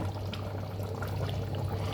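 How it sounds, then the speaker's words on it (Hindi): Spice mix poured into achari chicken curry simmering with broken-down tomatoes gives a steady, close hiss and sizzle that runs continuously without a break, with a low hum underneath and no voices. "अभी इस जगह पे हम ये जो हमने मसाला मिक्स किया है वो डालेंगे"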